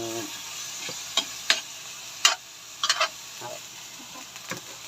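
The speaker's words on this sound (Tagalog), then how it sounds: "Tapos haluin po natin yan. Haluin. Para maluluto din po yung karne." Meat cooking in a pan, a low sizzle broken by several sharp scraping and clacking stirs of a utensil against the pan, close and irregular.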